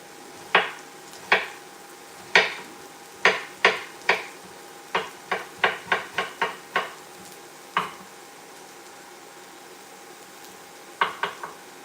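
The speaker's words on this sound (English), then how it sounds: "We're gonna chop up 2 tablespoons, small diced ginger." A knife strikes a cutting board in sharp, distinct chops as fresh ginger is cut into small dice, irregular single knocks and short quick runs, close and clear with no talk.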